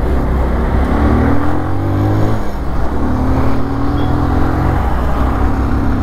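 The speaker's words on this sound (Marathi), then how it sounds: "गाडी येते," A car engine roars steadily nearby on a fast highway with no turns or speed breakers, a loud continuous drone with slight shifts in pitch as a vehicle passes.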